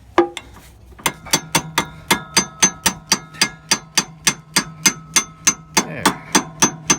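Steady series of sharp metallic hammer blows, about twenty evenly spaced strikes, driving a new U-joint yoke onto a Peterbilt 359 driveshaft, loud and close with ringing clangs and no talking.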